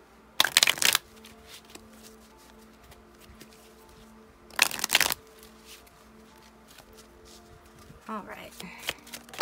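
Tarot cards being shuffled in two quick, loud bursts of riffling and flicking a few seconds apart, close by, with quiet talk and softer card handling in between.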